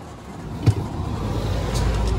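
Club Car golf cart driving along during a steering alignment check, a steady low motor and road rumble that builds slightly toward the end, with one brief bump partway through.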